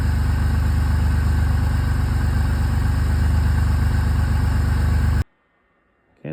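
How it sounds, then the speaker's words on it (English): An old 3-liter car engine idles steadily after a cold start, a loud, even low rumble close by that cuts off abruptly near the end, leaving near silence. "That 3 liter sure is a good engine."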